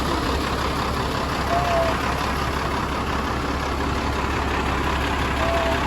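A Ford L9000 dump truck's diesel engine idles steadily and loudly close by, a constant low rumble that holds level throughout with no pauses.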